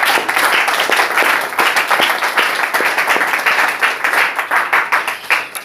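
A church congregation claps in praise during a worship service, giving steady, dense applause close by that lasts several seconds, with no talking over it.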